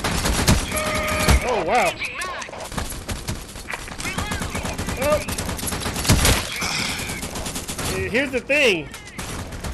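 Rapid gunfire bursts from the online shooter game Operation7, crackling loudly throughout, with synthetic musical tones and effects layered in and a player talking excitedly over the action.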